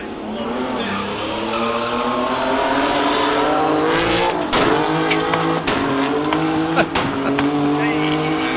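A race car engine screams loudly as it accelerates up a hillclimb course, with harsh revving and sharp pops and cracks toward the end.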